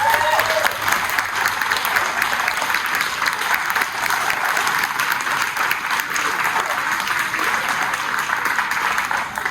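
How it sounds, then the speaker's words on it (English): A school board meeting audience applauds a student's perfect ACT score, a dense, steady clapping that fills the room and holds at full strength throughout. "Please give a round of applause."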